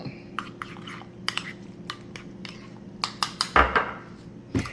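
A hot microwaved mixture being stirred in a dish, giving a run of light clinks and scrapes against the container, fairly close and mostly alone, with a heavier knock near the end.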